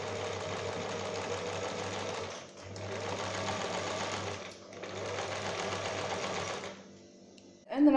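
A sewing machine runs fast stitching a zigzag seam, a steady close mechanical whirring in three long bursts separated by brief pauses, with a soft clunk at the end.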